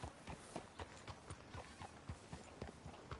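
Horse hooves in the Red Dead Redemption 2 video game, a steady rhythmic clip-clop of a horse walking at an even pace, crisp and fairly close.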